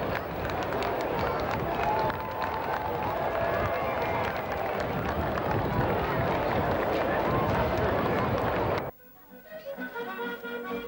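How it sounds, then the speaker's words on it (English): A large outdoor crowd roars and cheers for the Queen after she signs the register, a dense steady wall of voices and clapping that cuts off abruptly near the end, leaving quieter background murmur. "the crowds give the Queen a big cheer after the signing of the register"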